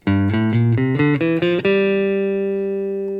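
A guitar plucks a quick run of single notes stepping up a scale, then lets the last note ring out and slowly fade.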